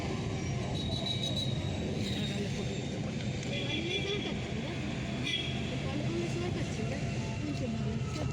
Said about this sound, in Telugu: రైల్వే స్టేషన్ అయితే వచ్చేసింది